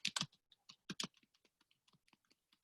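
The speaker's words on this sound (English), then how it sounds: "So I'm going to type that." Quick bursts of keystrokes on a computer keyboard, a flurry of clicks early on and then sparser, lighter taps at an irregular pace.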